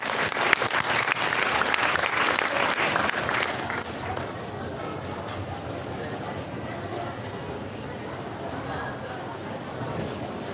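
A school audience at an evening moving-up ceremony gives a burst of dense clapping for about four seconds, which then thins out into a quieter hall murmur with scattered claps.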